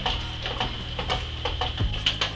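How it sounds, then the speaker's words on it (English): A spoon stirs sugar into a Shloer blush wine mix, giving a steady run of light, regular ticking clinks against the vessel over a constant background hum, with no talking. "So now all the sugar's in there, just give it a stir."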